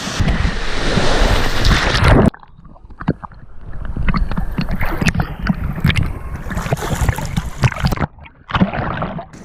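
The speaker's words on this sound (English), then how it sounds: "The waves here are actually a lot bigger than I expected." Ocean waves and wind at El Nido beach in Palawan, heard from a small raft out on the water, with loud gusty wind buffeting the microphone and choppy splashing and knocking close by.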